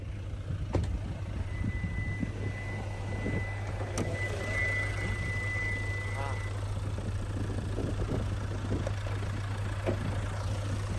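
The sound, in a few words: Hyundai Tucson 2.0 diesel engine idling, bonnet open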